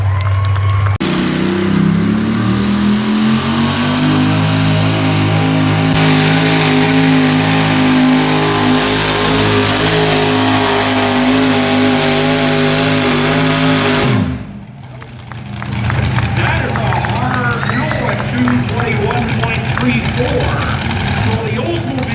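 Pulling tractor at a tractor pulling event, revving loud and close in a sustained, rising drone that drops off abruptly partway through, then continues as rougher, choppier engine roar.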